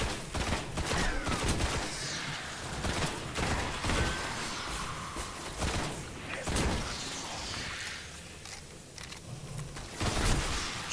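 Dense gunfire from the shooter game Destiny on Xbox One: rapid overlapping shots and bursts fill the whole stretch at steady loudness, with brief sharper cracks standing out amid the constant battle noise.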